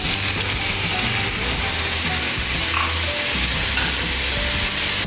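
Spices fry in an Indian vegetarian home kitchen pan, sizzling loudly and continuously with scraping, clattering stirring noises on top and no talking.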